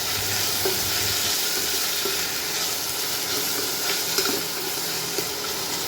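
Steady sizzling and crackling of whole chilies frying in a hot pan on an induction cooktop, a continuous hiss with occasional pops, close and fairly loud, no talking.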